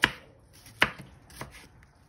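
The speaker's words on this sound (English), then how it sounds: "So now I'm cutting some tomato." A knife chops through a tomato onto a cutting board in a few spaced, crisp strokes, with quiet background hiss between cuts.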